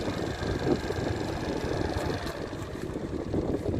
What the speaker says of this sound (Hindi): अब आप रेस दो दूसरी तरफ